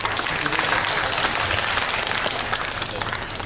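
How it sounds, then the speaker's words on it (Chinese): A room full of people at a student club's member-introduction gathering claps loudly and steadily, a dense, even wash of applause holding for the whole few seconds without letting up. "所以大家给他一点掌声好不好？"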